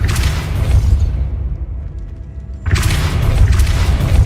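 A Depulso spell cast in Hogwarts Legacy, heard as a deep booming blast that fades into a brief lull before a second heavy rumble, loud and close.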